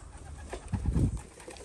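A racing pigeon coos close by in a pigeon loft, one soft, throaty, rolling coo that swells briefly in the middle, with no voices over it.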